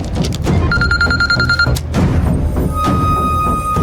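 A telephone rings in a steady electronic trill for about a second, then another tone follows among thumps and background noise.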